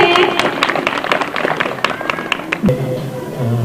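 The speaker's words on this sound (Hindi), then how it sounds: "तो मुनीर के लिए जोर से तालियां बजनी चाहिए" A school audience at a food festival claps in a burst of sharp, uneven hand claps close by, with some voices mixed in and a low thump near the end.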